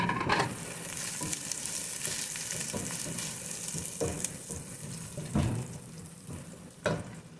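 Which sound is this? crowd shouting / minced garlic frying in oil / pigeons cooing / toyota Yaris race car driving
minced garlic frying in oil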